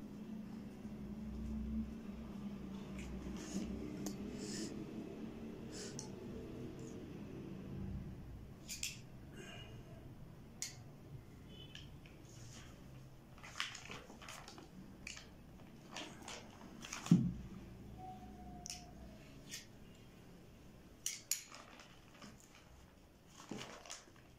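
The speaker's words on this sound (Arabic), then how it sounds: "كنعجنو الزبدة مزيان في الدقيق" Soft, irregular squishing and pressing sounds of hands kneading butter into flour, close and quiet, with occasional light clicks and taps.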